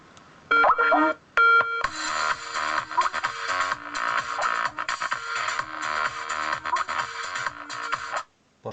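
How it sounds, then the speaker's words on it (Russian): A melody played from a mobile phone through a car radio's homemade AUX input, tonal electronic notes in short bursts, then a sustained tune of chords and beeps, fairly loud and clear, ending abruptly. "запускаем на телефоне мелодию"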